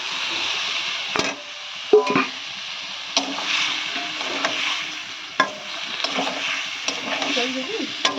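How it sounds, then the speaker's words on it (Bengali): Boiled potato and boiled vegetable stalks frying in a pan for a Bengali home meal, a steady soft sizzle broken by a few sharp clanks of a spatula stirring and scraping the pan close by. "একটু সামান্য একটু ভেজে নিই"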